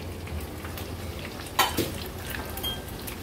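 Crispy prawn pakodas bubbling and crackling in hot oil, a soft continuous sizzle with a sharper crackle and a few pops midway.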